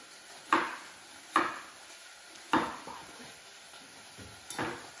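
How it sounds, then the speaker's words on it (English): A knife chops potatoes for lentil stovies on a kitchen board, four sharp, separate chops at uneven intervals with a faint scrape between, close and fairly loud with no talk. "So, on we go, chopping the potatoes."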